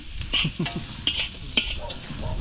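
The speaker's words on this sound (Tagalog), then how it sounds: "Iisa natin yung sibuyas bawang." Onion and garlic sautéing for pancit: a soft sizzle in a pan punctuated by several sharp clinks and scrapes of a spatula stirring against metal, close and moderately loud, with brief voices in the background.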